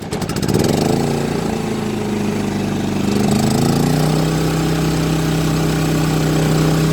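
A Champion 3100 inverter generator with remote start, choke out and switched to run, fires up within the first second and then drones on steadily. Its loud, even engine hum shifts pitch slightly partway through as it settles into running.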